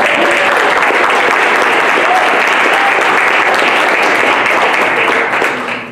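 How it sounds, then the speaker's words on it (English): An audience at a press conference launching Miss America Angela Perez Baraquio Gray's book breaks into loud, sustained applause, a thick steady roar of clapping that tapers off at the very end. "Let's give a round of applause."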